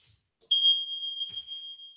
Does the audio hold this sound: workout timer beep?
yes